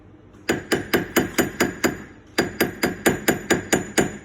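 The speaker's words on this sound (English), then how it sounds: "I'm using the hammer, the weight of this, to hammer the ring." A hammer strikes a silver wedding band being shaped round and to size, in two bursts of steady, evenly spaced metallic blows, loud and close with no talk.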